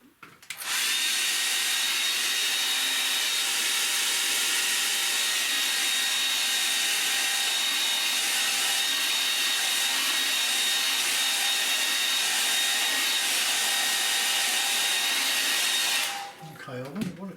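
Hair dryer blowing over a wet watercolour painting, a loud, steady airy roar that starts abruptly, holds evenly for about fifteen seconds close up, then cuts off.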